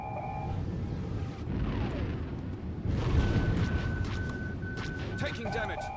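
Missile explosion in the Star Wars: The Old Republic PC game, Sith Warrior prologue; loud sustained rumbling blasts and roaring debris with alarm-like tones layered over, continuous and dense throughout.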